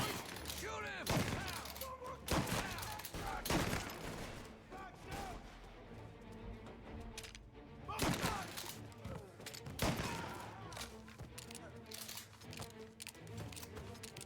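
Gunfire in a mafia standoff: several sharp, loud shots burst out at irregular intervals, with faint voices and background noise in the gaps between them.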